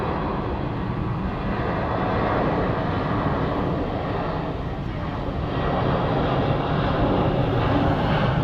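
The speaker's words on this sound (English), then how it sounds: "We figured we heard a jet," A military jet passes over Sky Harbor International Airport in Phoenix, its engine giving a sustained, loud rumbling roar that dips briefly and then rises again, continuous across the whole stretch.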